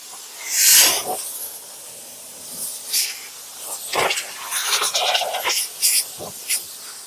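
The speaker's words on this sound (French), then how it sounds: "Vapeur sèche." Dry steam from a steam cleaner hitting a car, heard as intermittent close hissing bursts of varying length, some sharp and short, others drawn out, with quieter gaps between them and no talking.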